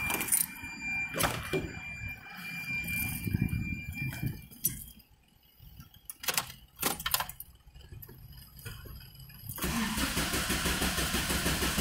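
Keys rattle and a starter cranks in bursts before a Ford Escort Zetec engine catches and settles into a steady idle near the end.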